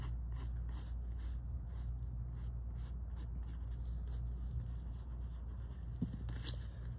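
Pencil lines being sketched on paper for a self-portrait, a series of soft, close scratchy strokes in an irregular rhythm over a low steady background hum.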